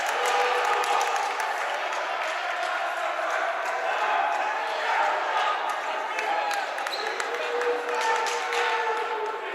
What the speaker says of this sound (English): And when that foul occurred, this crowd erupted.